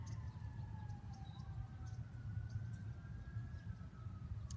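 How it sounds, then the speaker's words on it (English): A distant siren wails up and down over a steady low background rumble in a park in Bakersfield, California, faint and continuous. "Hear a siren."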